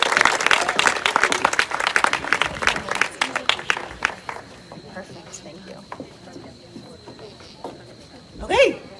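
An audience claps for Marty's Place at a grant finalist reveal event: dense applause that thins into scattered claps and fades, followed by a brief voice near the end.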